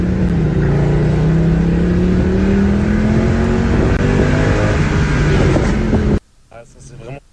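A car engine revs loudly and continuously up close, its pitch slowly rising and falling for several seconds before dropping away abruptly to near quiet.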